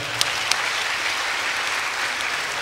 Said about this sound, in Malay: Satu tepukan untuk mereka.